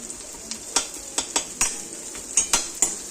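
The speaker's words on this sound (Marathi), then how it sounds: "आता या सर्व वस्तू व्यवस्थित छान अशा तेलावरती परतून घ्यायच्या उलट सुलट करत बघा" Leftover chapati upma ingredients, including peanuts and roasted chana dal, sauté in hot oil under a bright sizzle, with sharp, irregular clacks of a spoon stirring against the pan.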